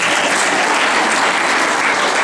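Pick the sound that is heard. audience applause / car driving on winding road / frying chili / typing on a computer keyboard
audience applause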